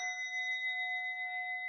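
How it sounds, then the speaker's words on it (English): A single struck bell rings out in a remembrance circle, its clear pure tone sustaining steadily with a gentle wavering shimmer, faint and alone without speech. "I sound this bell"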